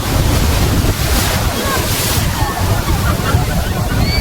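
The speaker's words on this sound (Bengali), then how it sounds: "অনেক বেশি ঢেউ।" Sea waves at Digha beach make a steady, loud roar of surf with heavy wind buffeting the microphone throughout.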